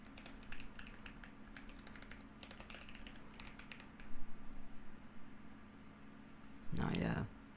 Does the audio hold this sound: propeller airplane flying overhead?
no